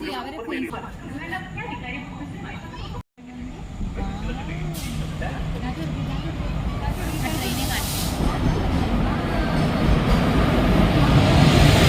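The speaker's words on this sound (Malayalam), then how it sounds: "പോകാനുള്ള ട്രെയിൻ സ്റ്റേഷനിലേക്ക് കയറി വരുന്നുണ്ട്" A train rumbles and hisses as it rolls in, its noise slowly growing louder beneath a person talking.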